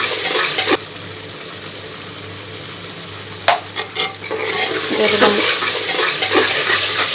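Cumin and garam masala powder go into a frying pan, with steady oil sizzling and bursts of stirring and scraping against the pan, fairly close and continuous.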